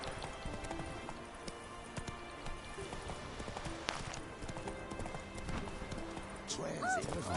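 Horse hooves clip-clopping at a steady riding pace in The Witcher 3: Wild Hunt, a repeated clopping rhythm over ambient game noise, with a short whinny near the end.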